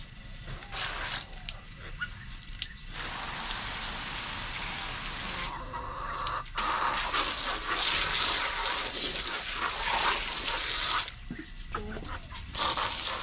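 Steady running tap water splashing over feed being washed in a backyard garden setting, a continuous hiss broken by brief pauses and shifts in flow, with faint background noise.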